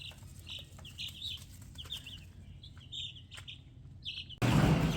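Young meat chickens chirp in a steady stream of high peeps, many birds calling at once and close by, ending with a sudden loud rustle or flapping burst.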